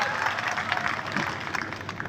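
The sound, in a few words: applause thanking contract labour and management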